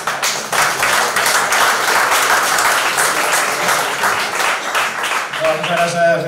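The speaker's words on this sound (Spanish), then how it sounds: "Un aplauso para Jorge." Audience at a Falange party campaign presentation in Madrid for the European elections claps loudly and steadily throughout, a full dense round of applause, with a voice emerging over it near the end.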